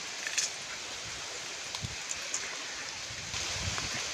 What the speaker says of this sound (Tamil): நம்ம புளிய மரத்து அடியில் சூப்பராக காற்றடிக்குது.